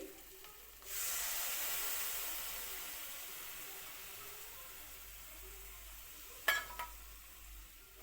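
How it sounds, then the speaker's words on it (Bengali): Spice paste of ginger, turmeric, salt and blended spices frying in a pan for a rui fish head and pumpkin curry, a broad sizzle that flares up after a quiet start and then holds steady, with a brief scrape of stirring near the end. "ভালো করে মশলাটা কষানো হইব যাতে মশলা কাঁচা গন্ধ না থাকে"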